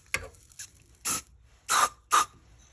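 Three short bursts of CA glue activator spray, each about a quarter second, separated by quiet pauses, with a faint tap at the start, sprayed onto a segmented pen blank.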